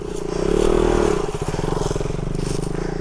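A motorcycle on a muddy jungle track in Nepal, its engine droning steadily up close and swelling briefly, with rapid chugging pulses and faint clattering, and no talk over it.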